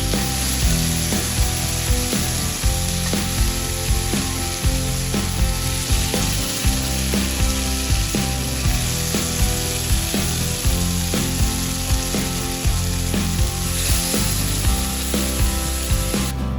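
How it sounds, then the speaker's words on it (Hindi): Mutton chops frying in melted butter in a pan, a steady dense sizzle with crackling pops running throughout, close and loud with no voices. "मक्खन जब थोड़ा गर्म हो जाएगा, मेल्ट हो जाएगा, तो अब आपने इसके ऊपर चाप डाल देनी है"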